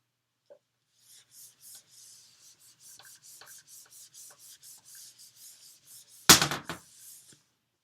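An eraser scrubs a board in a math class, giving a steady run of soft, rhythmic rubbing strokes, close but quiet, ending with a sharp knock or clatter.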